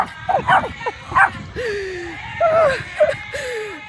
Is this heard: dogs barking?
yes